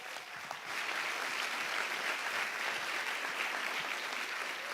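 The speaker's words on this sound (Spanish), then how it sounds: "Fuerte el aplauso para él." Steady applause from an audience welcoming a speaker onto a stage at a conference, a dense wash of clapping that holds evenly for several seconds without voices.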